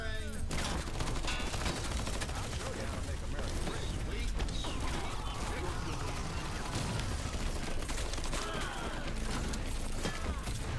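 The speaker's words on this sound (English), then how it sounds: "Oh shit, knocked me right to the explosion." Dense, continuous combat noise from Shaq Fu: A Legend Reborn, with rapid bursts of gunfire and explosive booms, loud and chaotic throughout with a faint voice underneath.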